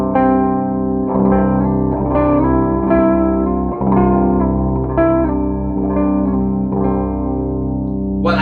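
Gibson Les Paul electric guitar tuned to D standard with the top string dropped to C, played through heavy distortion and effects, a thick sustained chord wall with repeated strums, loud and continuous with no talking.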